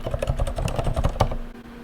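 Keys clatter on a Mac computer keyboard in a quick, uneven run of close, crisp presses, ending with one firmer tap before a brief quiet.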